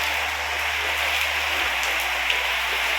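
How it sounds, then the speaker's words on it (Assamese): Steady light rain falls outdoors on a cool morning, a continuous even hiss of drops on surfaces with no voices, moderate and close throughout. "বৰষুণ দি আছে, মানে বহুত ডাঙৰকৈও দিয়া নাই কিন্তু দি আছে নহয়"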